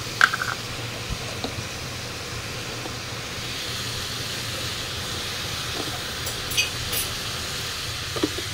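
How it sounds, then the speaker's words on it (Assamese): Chopped tomatoes with salt sizzle in a frying pan with cabbage, a steady hiss with a few light clicks from the pan, no talking. "ইয়াৰ ওপৰত যে কেইটামান বিলাহী কাটি থৈছিলোঁ, এইকেইটা দি দিম। দিয়াচোন নিমখখিনি।"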